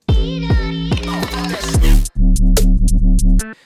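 A modern electronic drop slams in after a short percussion fill and heavily distorted vocal: loud, pounding bass hits and gritty synth stabs in a tight, choppy rhythm, cutting off abruptly.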